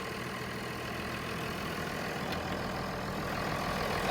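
A tractor engine idling with a low, steady rumble, continuous and close, with no voices.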